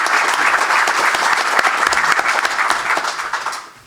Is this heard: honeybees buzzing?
no